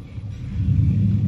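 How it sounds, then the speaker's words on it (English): A car goes by on the road, its deep rumble swelling from moderate to louder as it approaches, heard on its own without speech. "wait till that car go back"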